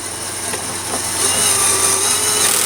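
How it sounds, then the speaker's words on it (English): Cordless drill driving small M8 bolts into the terminals of a LiTime 12V 230Ah LiFePO4 deep-cycle battery, a steady close whirring that holds for a few seconds without talk. "you can use a drill to put these on"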